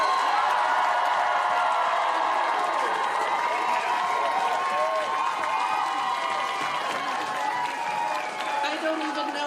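A frustrated crowd at a congressional town hall fills the room with continuous loud murmuring, shouting and scattered clapping, voices overlapping throughout without letting up.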